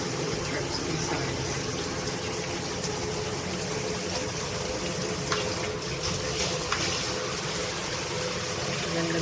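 Water streams steadily from a GRICH 2-in-1 high-pressure handheld shower head, making a continuous, fairly loud hiss and patter that stays even for the whole stretch.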